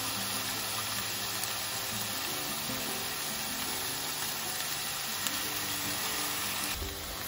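Tempeh sizzling in a pan with garlic, green onion and soy sauce, a steady close crackling hiss that runs unbroken for the whole stretch with no talk.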